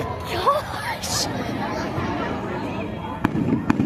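Fireworks burst at an outdoor display, with a couple of sharp, loud bangs near the end, while people nearby chatter and exclaim throughout.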